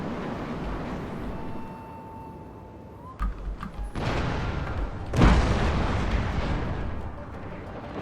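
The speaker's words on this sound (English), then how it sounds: "My shore batteries are opening fire finally." In Total War: Shogun 2 Fall of the Samurai, shore batteries and ship cannons open fire in the game. Deep booming blasts come one after another, some near and some farther off, over a constant battle rumble.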